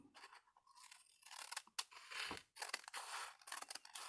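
Scissors snip and crunch through paper bag journal pages in a series of close, crisp cuts with brief pauses between them, quiet and without talking.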